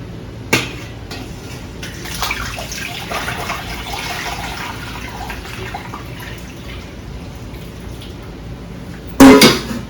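Hot, near-boiling tea poured over ice while brewing kombucha, a steady splashing liquid pour with clinking ice that runs throughout, closing with a louder burst of splashing at the end.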